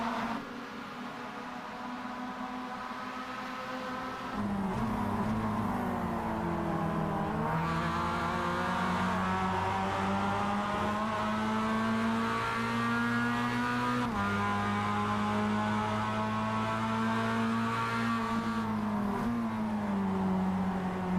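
Mazda Cup race cars at Sebring in a racing video game, engines droning steadily with a pitch that rises and falls through gear changes, one car louder and closer and others layered beneath, no commentary.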